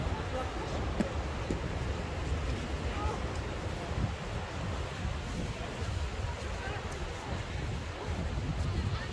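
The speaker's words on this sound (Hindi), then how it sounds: "तेज हवा चल रही है, बहुत तेज।" Strong wind roars steadily at the seaside in Palanga, Lithuania, a constant close buffeting rush mixed with a wash of surf, with faint voices beneath.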